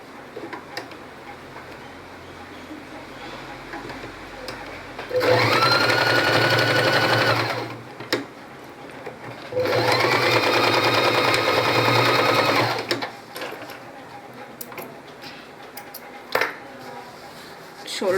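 A sewing machine stitches the top seams of a pattu pavadai in two steady, loud runs of a few seconds each, separated by quiet pauses with faint handling noise.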